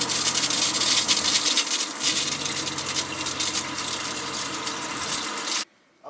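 Water runs steadily from a newly installed tap in a DIY camper van during a leak test, a loud continuous splashing gush that stops abruptly near the end.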